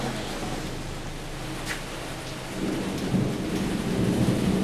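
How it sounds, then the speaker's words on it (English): A thunderstorm at a night-time asylum building, with heavy rain hissing steadily and low thunder rumbling, swelling louder toward the end. "Wow, that's one heck of a storm."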